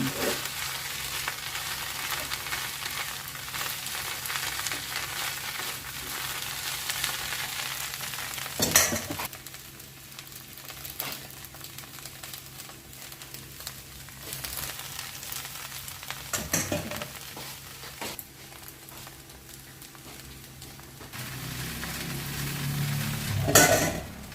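Shiitake mushroom chili paste with vegetarian ham stir-fries in olive oil with Japanese sauce, giving a steady close sizzle and the scrape of a spatula against the pan, with occasional louder clanks.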